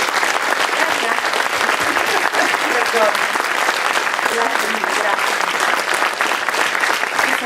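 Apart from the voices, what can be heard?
audience applause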